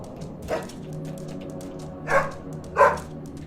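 A dog in the horror game Helltown barks three times, spaced apart, over a steady low droning background.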